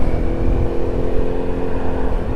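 A red Yamaha FZ1N motorcycle with a full Remus exhaust system runs with a steady, loud, close engine drone, continuous and alone without speech.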